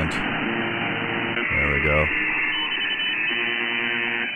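Shortwave buzzer station on 4625 kHz upper sideband, received through an online Kiwi SDR from Norway: a steady, droning buzz under constant radio hiss and static, with a brief spoken comment over it midway.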